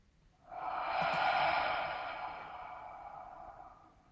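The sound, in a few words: deep breath exhaled out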